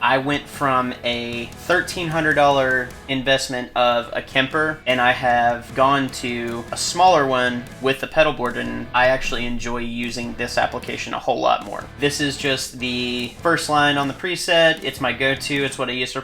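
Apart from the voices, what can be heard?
None of the usual background noises is heard.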